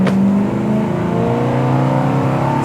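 A 1964 Pontiac GTO engine accelerates hard, a loud, continuous rising roar with climbing harmonics that holds close and steady for the whole stretch, with no voices over it.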